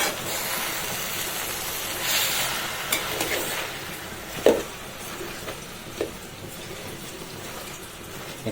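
Onion, garlic, green chilli and tender water spinach sizzle with salt in a pan, a constant hissing fry punctuated by a few sharp clinks and stirring knocks, with no talk.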